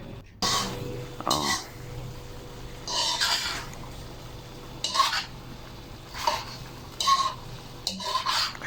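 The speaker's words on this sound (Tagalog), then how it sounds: "Haluin natin maigi para yung sa ilalim mapunta sa taas." Food being stirred in a cooking pot with a utensil, several separate scraping, clinking strokes against the metal, close and fairly quiet, with short pauses between them.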